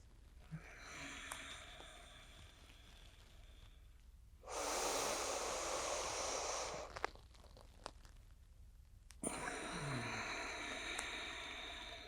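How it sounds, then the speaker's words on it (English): Slow, deep breaths during a yoga exercise, with a long, strong airy inhale and exhale in the middle and softer breaths before and after, close and quiet with small rustles between. "Exhale, slowly follow the breath back down until you completely empty."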